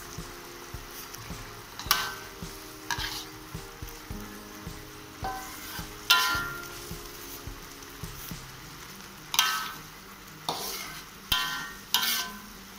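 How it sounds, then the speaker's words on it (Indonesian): Pelleng ingredients frying in a pan with salt and seasoning, stirred in repeated scraping bursts over a steady sizzle, close and fairly loud with no talking. "Aduk-aduk sampai dia mulai mengering sedikit."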